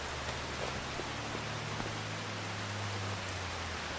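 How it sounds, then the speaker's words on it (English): Steady rain falling in the farming game Farming Simulator 25, an even hiss of drops with a low rumble underneath, continuous and unbroken with no talk. "I'll wait until the rain stops."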